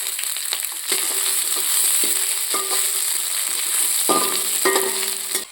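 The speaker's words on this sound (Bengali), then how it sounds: "পেঁয়াজটা প্রায় ভাজা হয়ে গেছে" Chopped onion and green chili frying in oil in a pan, a continuous bright sizzle with repeated scraping and stirring knocks from a spatula, close and steady.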